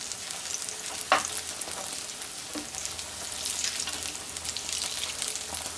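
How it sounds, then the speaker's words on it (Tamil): Potato aloo bonda balls deep-frying in hot oil, a constant bright sizzle with a sharp scrape as they are turned in the pan. "மெல்ல போண்டாவை திருப்பி விடுவோம். நல்லா எல்லா பக்கமும் கோல்டன் ப்ரௌன் ஆகணும்."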